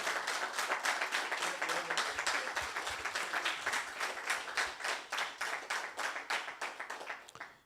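A church congregation claps for the Lord during a sermon, a fairly even round of applause that falls into a loose shared rhythm and gradually thins and fades toward the end, moderately distant with no voices over it.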